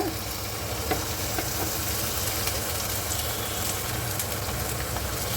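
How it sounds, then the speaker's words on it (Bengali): Onion, tomato and potato fry together in a pan with a steady, even sizzle and faint crackle throughout, and no talk. "চলো, পেঁয়াজ আর টমেটো আর আলু এগুলোকে একসাথে ভেজে নেবো।"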